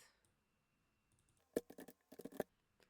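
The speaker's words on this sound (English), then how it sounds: "Let's type our text" Text typed on a computer keyboard, a few close, sharp clicks in two short bursts after a quiet start, with no talking.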